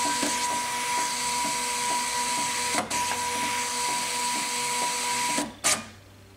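A Zebra ZT411 industrial label printer whirs steadily while calibrating its ribbon and feeding labels, a continuous mechanical hum with rhythmic ticks and a few sharp clacks near the end, close and alone.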